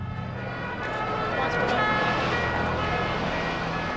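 An ambulance siren wailing outside a football ground during the Hillsborough disaster, over the broadband hum of traffic, a steady and fairly loud drone that persists throughout.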